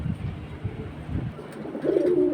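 Hurricane-bloodline pigeons coo in soft, low repeated pulses close by, ending in a brief brighter warbling call.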